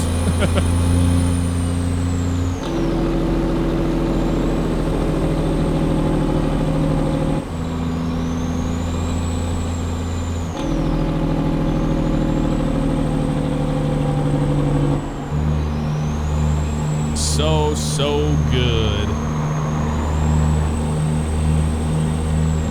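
A logging truck's Cummins Big Cam diesel engine drones steadily from inside the cab, shifting pitch as it changes gear, with a high whine and a brief spoken remark.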